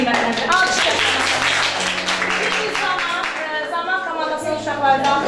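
Applause in a fourth-grade maths open lesson: many hands clap in a dense, steady patter for several seconds, with voices and a low sustained tone underneath.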